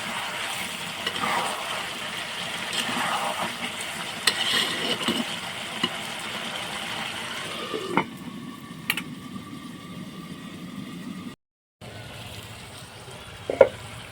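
Mutton curry with whole garlic sizzles and bubbles in a pan while it is stirred with scraping strokes; the frying noise then drops to a quieter simmer, cuts out briefly and ends with a sharp clank.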